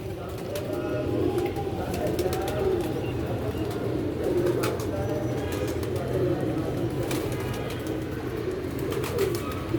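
Pigeons coo in soft, repeated low phrases under a continuous murmur of birds nearby, with occasional faint clicks and flutters mixed in, steady and moderately distant throughout.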